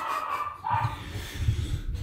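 A dog barks a few times at something passing by, giving short, moderately loud barks and yips over faint background noise.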